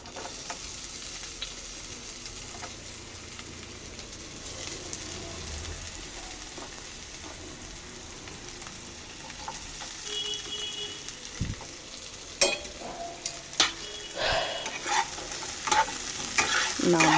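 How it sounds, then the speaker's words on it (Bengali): Onions fry in a little oil in a wok, with a soft, continuous sizzle and scraping stirring that grows busier and more clattery toward the end, with no talk. "তেল দিয়ে দিচ্ছি কড়াইয়ে"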